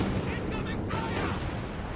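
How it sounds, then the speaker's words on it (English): Rocket artillery barrage in the video game Company of Heroes 2, a dense continuous rumble of rapid launches and blasts that stays loud and steady throughout, with a commentator talking over it. "Going to launch another barrage."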